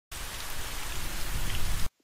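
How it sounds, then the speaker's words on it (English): Steady rain pouring down in a dense, even hiss with a low rumbling undertone suggesting distant thunder, constant throughout and ending suddenly, with no speech. "rain and thunder."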